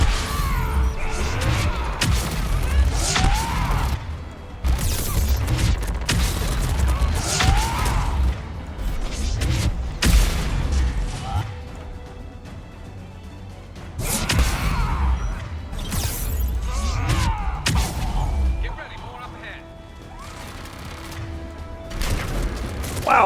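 Gun turrets in Mass Effect 3 fire amid a busy battle, with repeated heavy blasts, impacts and whooshing bursts clustered in waves, loud and close, with brief quieter lulls between volleys.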